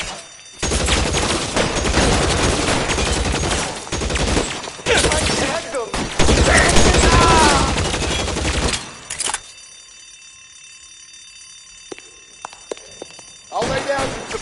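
Gunfire in the detective game LA Noire, dense overlapping shots and loud bursts of shooting through the first nine seconds, then a near-quiet stretch before a short final burst.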